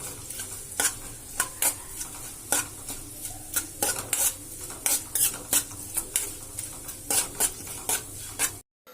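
Cumin seeds and fenugreek roasting in oil for a chutney, with a steady close sizzle and repeated sharp scrapes and clinks of a spoon stirring against the pan, before the sound cuts off near the end.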